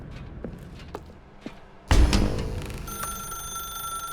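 A telephone in The Stanley Parable, a few soft taps and thumps, then a sudden loud thud followed by a steady bright electronic ringing tone that continues to the end.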